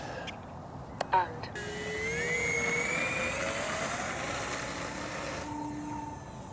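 A small FPV delta twin wing aircraft takes off under throttle, its electric motors rising into a whining drone that carries on and slowly fades as it climbs away, after a couple of brief handling knocks.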